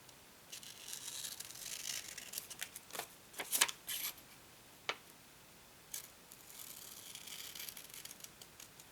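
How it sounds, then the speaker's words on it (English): Scissors snip close by through card while corners are trimmed for a five-panel fold card, a few crisp faint cuts and rustles of paper over a quiet background. "Okay, all you need to do is just cut those two corners off."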